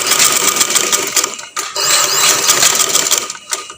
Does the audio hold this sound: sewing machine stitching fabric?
yes